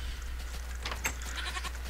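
A goat in a video game bleats in a few short, scratchy bursts over a steady low hum, fairly faint and close, with no talking.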